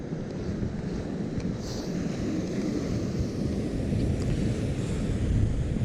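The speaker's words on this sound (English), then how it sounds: "sea's still really big" Big sea waves break on the rocks at Lynmouth, a loud continuous rumbling surge with wind buffeting close to the microphone and no talking.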